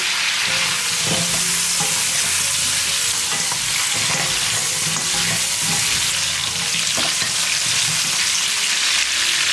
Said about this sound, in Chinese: 接着加入料汁， 炒匀了加入香料，炒出香味